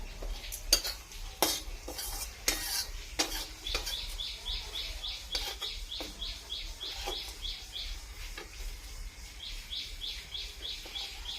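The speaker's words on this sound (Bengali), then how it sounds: "লঙ্কাটা ভাজা হয়ে গেছে" Green chillies fry with onion in a pan with a soft sizzle while a spatula scrapes and taps irregularly; faint bird chirps repeat in the background.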